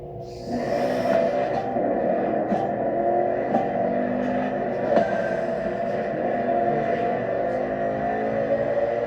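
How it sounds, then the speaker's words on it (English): NASCAR stock cars racing through an urban Hawaii circuit in The Crew Motorfest, a sustained engine drone that rises and falls in pitch as the cars accelerate. It is fairly loud throughout, with faint voices at times. "The green flag is in the air, and we are racing in a purely urban race here in Hawaii."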